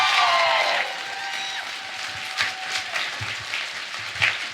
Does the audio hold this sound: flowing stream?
no